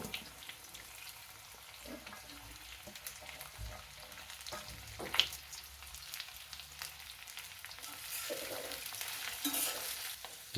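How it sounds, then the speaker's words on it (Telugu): About two hundred grams of okra pieces frying in hot oil for bhindi masala, a faint steady sizzle with occasional stirring clinks and scrapes, close but quiet, no talk. "ఈ ముక్కలన్నిటిని ఇప్పుడు ఈ నూనెలో వేసి వేయించుకుందాం"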